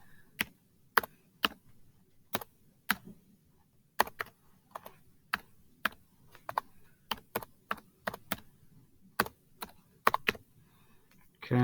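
Sharp, separate keystrokes tapped out on a computer keyboard while numbers are entered, coming in an uneven rhythm of single clicks and quick pairs, close and clear over a quiet background with no talking.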